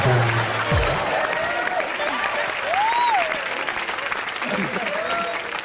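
Studio audience applause on a television comedy show, a loud, sustained clapping wash with cheering tones and faint voices mixed in, running steadily throughout.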